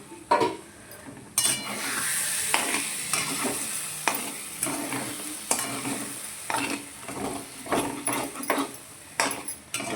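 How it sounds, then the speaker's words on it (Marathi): Besan jhunka (gram-flour dish) being stirred in a pan with the lid removed: repeated scraping, clinking stirs over a steady background sizzle, close and moderately loud, no talking. "आता आपण झाकण काढून एकदा हलवून घेऊ."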